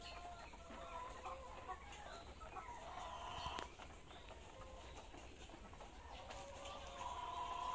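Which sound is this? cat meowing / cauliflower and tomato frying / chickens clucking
chickens clucking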